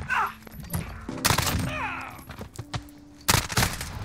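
MP5 submachine gun fire in Call of Duty Modern Warfare, short sharp bursts of rapid shots separated by pauses, loud and close, mixed with other game effects.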